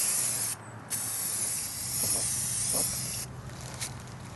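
Aerosol clear coat sprayed onto Wheel Horse tractor parts in steady hissing bursts, close and continuous, with two brief pauses between passes and no talking.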